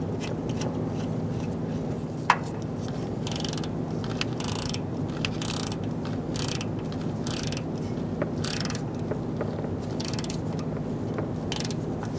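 A nut on the starter power wire of a 1988-1999 GMC K1500 5.7L V8 is tightened with a ratchet, giving repeated close clicking and ratcheting over a steady background hum, with one sharp tap early on.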